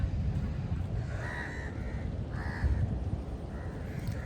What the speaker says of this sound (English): god these crows